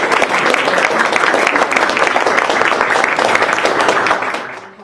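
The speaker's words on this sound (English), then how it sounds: "let's give them a round of applause" Sustained audience applause fills a room at a US House briefing on Capitol Hill, dense clapping from a sizable crowd that holds steady and then fades out at the end.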